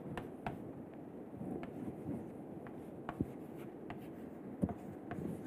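Chalk writing on a blackboard during a lecture: soft, steady scratching strokes with occasional sharper taps, faint and close, with no talking.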